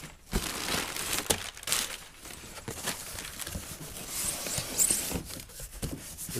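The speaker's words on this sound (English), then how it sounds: "I'm going to unwrap one of these right here" A plastic-wrapped SimpliPhi lithium battery being unwrapped up close: irregular crinkling and rustling of plastic with a few sharper crackles and tearing bursts, quiet overall and without talk.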